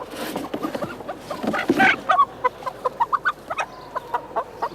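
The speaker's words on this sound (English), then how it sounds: "it just so happens that we've got a chicken here" A live chicken on a stage clucks repeatedly in short, lively bursts, close and clear, with a busier flurry of squawks early on before settling into evenly spaced clucks.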